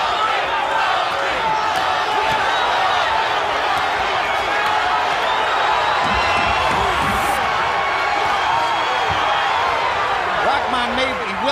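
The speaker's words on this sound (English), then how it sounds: "Crowd is starting to chant Toney," A dense arena crowd at a James Toney vs Hasim Rahman boxing match roars and chants continuously and loudly for the whole stretch, with excited voices and whoops rising out of the crowd noise.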